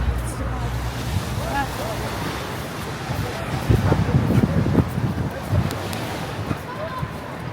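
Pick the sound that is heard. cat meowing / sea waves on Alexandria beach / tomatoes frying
sea waves on Alexandria beach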